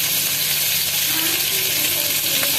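Half a kilo of small boneless chicken pieces fries with two tablespoons of garlic ginger paste in a pan, giving a steady, close, loud sizzle throughout, with faint background voice.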